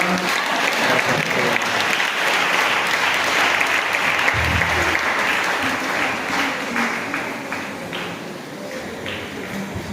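A charismatic prayer-group congregation applauds loudly and continuously, a dense, steady wash of many hands clapping with scattered voices mixed in.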